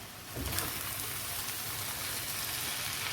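Kothu parotta with coriander leaves being stirred in a hot pan, giving a steady close sizzle with a brief stirring scrape near the start and no talk.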